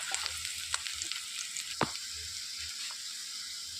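Green chilies and curry leaves sizzle steadily in hot oil in a pan as they are stirred, with a few sharp clicks of the spoon against the pan over a constant frying hiss.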